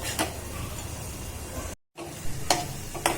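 Steady sizzling of masala frying in hot oil until the oil separates, with scraping stirs and a brief silent cut partway through.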